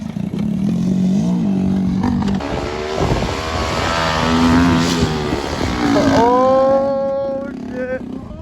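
A three-wheeler grinds through a sand pit with a loud, steady engine drone that climbs and falls as it labours in first gear, with voices calling out over it.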